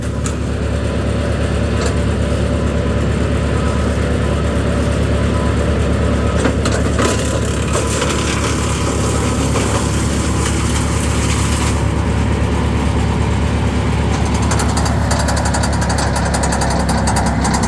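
A 2016 Bandit 200UC wood chipper runs loud and close while chipping tree limbs, a steady heavy engine roar with crunching and rattling bursts as branches feed through.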